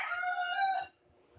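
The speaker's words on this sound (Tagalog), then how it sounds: "Sige, makipagsabayan kang manok." A single rooster's crow rings out clearly at close range for about a second, then fades into quiet.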